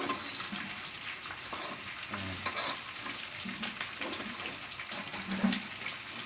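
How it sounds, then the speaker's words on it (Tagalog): Steady sizzling of pork frying in its own fat in a pan without added oil, with scraping and stirring clatter from a utensil throughout, close by and moderately loud. "prito sa sarili niya mantika"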